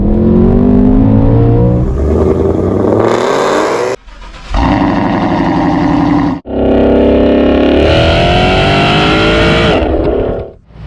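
A boosted 2021 Ford Mustang Mach 1 V8 revs hard and loud, rising in long climbing pulls with brief drops between them, raw and close with a mechanical whine on top.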